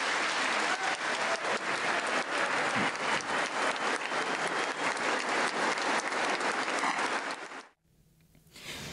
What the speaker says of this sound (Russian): аплодировали стоя